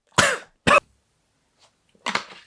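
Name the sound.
coughing fit while laughing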